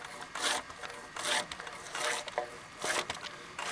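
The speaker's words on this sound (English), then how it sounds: "we're peeling logs, no gas. People power." A draw knife peels bark off a log outdoors at night, each rasping, scraping pull coming in a steady rhythm of roughly five strokes, close and fairly quiet, with no voices.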